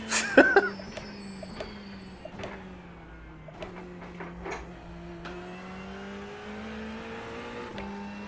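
A race car in a sim racing game, played on a full-motion cockpit rig, runs at a steady engine drone while sharp knocks punctuate it as the car bumps aggressively over curbs, moderately loud and without speech.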